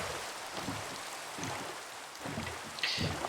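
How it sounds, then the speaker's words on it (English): Rain in Minecraft falls as a steady, dense hiss that fills the scene without a break, fairly loud and even, with no one talking over it. "there the rain ended"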